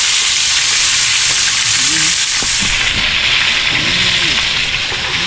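Fish frying in a pan, a dense, loud continuous sizzle that stays steady throughout, with someone speaking quietly under it.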